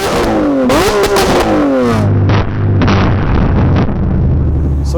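A Lamborghini Aventador SVJ engine revs hard and loudly up close, with rising and falling sweeps, sharp pops and bangs, then settles into a deep, steady, booming rumble.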